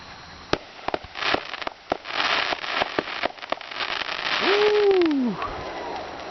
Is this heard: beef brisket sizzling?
no